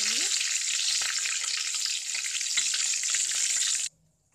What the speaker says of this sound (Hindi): इसी तरह हम सारी फिश फ्राई कर लेंगे